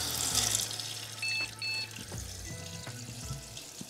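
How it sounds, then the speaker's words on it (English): Water trickles and splashes as it is poured in small amounts onto the air cooler of a running HP ProLiant ML110 G6 server PC. A steady machine hum sits underneath, with a couple of brief electronic beeps. "Let's just shove a little bit of water in."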